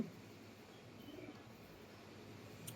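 Pigeons cooing softly and faintly in a quiet space, a low, continuous murmuring burble for a few seconds.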